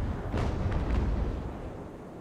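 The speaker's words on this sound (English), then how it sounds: "Both the frigates are in a position to shoot on the transports, and they are doing so." Frigates firing cannon at transports in the naval strategy game Ultimate Admiral: Age of Sail, a couple of booming shots with a deep rolling rumble that fades away, no voices.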